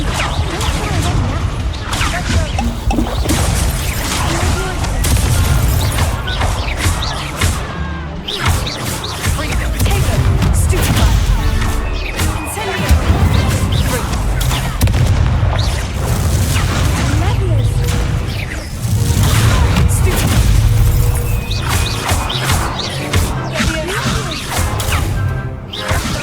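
Confringo fire spells explode in Hogwarts Legacy combat, with a dense, loud stream of blasts, crashes and whooshes packed over game music. The barrage continues unbroken across the stretch.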